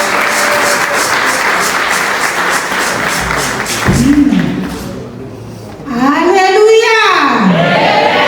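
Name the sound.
congregation applauding and cheering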